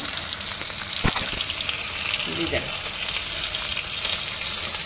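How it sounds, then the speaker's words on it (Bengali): Spice paste sizzles steadily in hot oil as it is sautéed for a chickpea curry, with a close, continuous frying crackle and a few brief stirring scrapes, and no talking. "এবার মশলাটা কষাচ্ছি"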